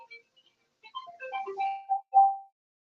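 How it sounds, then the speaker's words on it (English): A work phone rings with a short melodic ringtone of rising and falling electronic notes, played once through cleanly and fairly quietly with no talk over it. "This phone is ringing off the hook. I think that's actually my work phone."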